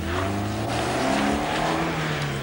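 A 1991 BMW E36 318i lapping a damp kart track at Shennington, its engine droning loud and steady with rising and falling pitch as it is pushed through corners, close by and continuous.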